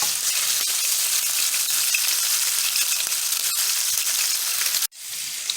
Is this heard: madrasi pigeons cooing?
no